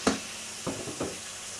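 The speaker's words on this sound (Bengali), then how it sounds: "বেগুনটা আগে ভুনে নিতে হবে সেদ্ধ হওয়ার জন্যে" Eggplant frying in a pan before tengra fish goes in for a curry gives a faint, steady sizzle, broken by two or three soft stirring scrapes.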